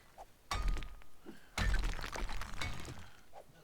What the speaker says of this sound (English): I hear you're mining